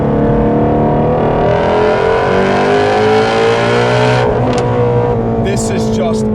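A powerful 2017 Shelby GT350 engine roars loudly up through the revs, its pitch climbing steadily before easing off with a brief crackle near the end.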